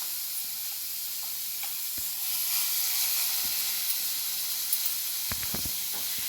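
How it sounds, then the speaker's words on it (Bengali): Marinated prawns with turmeric and salt lightly frying in coconut oil, giving a steady close hiss and sizzle, with a few sharp pops and utensil taps toward the end. "চিংড়ি মাছ বেশি ভাজবো না, এই নারকেলের তেলে একটু ভাজলে পরেই সুন্দর একটা সুগন্ধ আসে"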